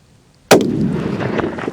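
A single hunting rifle shot fired at a buck in Wyoming: one sharp, loud crack with a sudden onset, followed by a long rolling echo that stays strong through the rest of the clip, with no talk.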